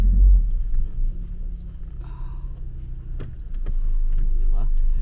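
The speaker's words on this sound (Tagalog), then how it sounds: "Oops, may sasakyan." A car rumbles past on a busy residential street in the UK, a low engine drone rising and falling close by as a person talks over it.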